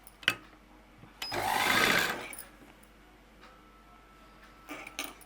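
A sewing machine runs a single stitching burst along the edge of a folded, doubled frock frill, lasting about a second with faint handling clicks before and after, otherwise alone.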